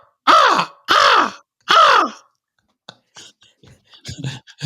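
A person does a spot-on vocal imitation of a crow, three loud, harsh caws in a steady rhythm, followed by quieter scattered sounds and faint movement.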